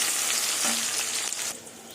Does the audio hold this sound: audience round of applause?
no